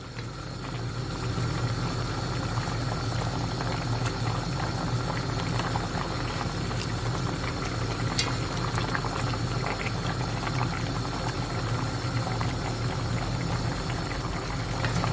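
Pork ribs boil in a pot after nearly an hour of cooking, a dense, continuous bubbling roil that stays steady and close from start to finish with no talking.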